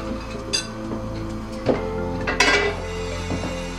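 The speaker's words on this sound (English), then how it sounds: "Now I'm going to get another frying pan." A metal frying pan clanks and clinks a few times as it is moved and set down in a kitchen, fairly close, over a steady low hum.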